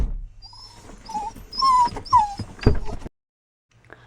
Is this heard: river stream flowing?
no